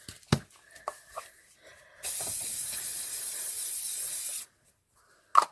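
Hairspray is sprayed onto a layered ribbon hair bow in one close, loud, sustained hiss lasting a couple of seconds. Faint handling clicks come before it and a short tap follows.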